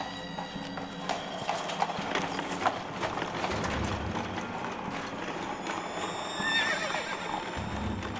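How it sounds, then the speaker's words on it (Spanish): A horse neighs over the steady clip-clop of hooves drawing a cart, with creaking wheel and mechanism noise throughout in a continuous sound-effect track. "uno de los soldados dice que escuchó relinchar un caballo"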